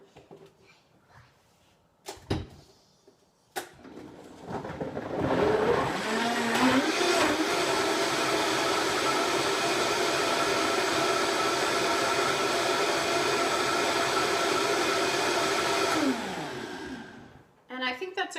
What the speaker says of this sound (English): So I'll just blend these up real quick.